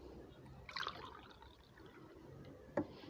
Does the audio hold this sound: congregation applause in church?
no